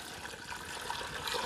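Warm homemade chicken broth pours steadily in a continuous liquid splash and trickle, close and alone.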